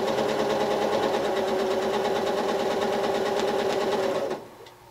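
Sewing machine quilting a zigzag spiral design, running as a fast, steady, close mechanical hum for about four seconds before it stops and leaves only a faint background.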